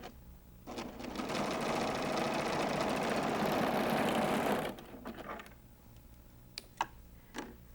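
A serger sewing machine runs off the edge of quilt fabric in one steady, fast whirring burst of about four seconds, close and clear, then stops, leaving a few light clicks and taps.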